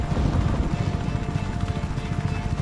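Helicopter rotor chopping closing in during Just Cause 3 gameplay, a steady rhythmic low thudding that stays loud and continuous throughout, with faint game noise underneath.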